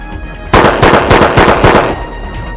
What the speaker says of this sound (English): that's the nice thing about revolvers. You can actually shoot them fast.